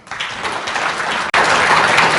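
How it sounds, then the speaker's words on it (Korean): An audience applauds at the launch ceremony of an agriculture and food policy forum: loud, dense clapping that swells and carries on with a tiny break midway, with no voices over it. "다시 한번 힘찬 박수 부탁드리겠습니다."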